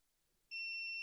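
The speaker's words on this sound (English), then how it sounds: "So this side is ground on these caps, and this is meant to beep essentially." A multimeter continuity tester beeps on an Xbox Series X board when the probe touches ground on a capacitor, giving a sudden loud steady tone that starts halfway through after near silence.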